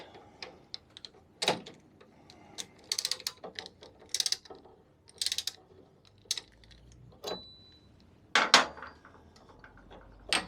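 Part being screwed in to extract another during a first service on a 2024 Royal Alloy GP300SE scooter: scattered sharp metallic clicks and ratcheting taps, irregular and close, with quiet gaps between them.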